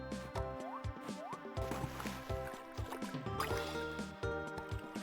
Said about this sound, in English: I love how you can just jump into the water.